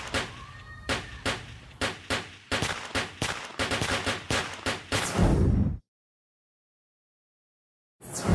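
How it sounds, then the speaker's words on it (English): Rapid bursts of gunfire, a dozen or more sharp cracks in quick succession building into a dense volley, then abrupt silence. "The gunshots did not cease for the next 5 months."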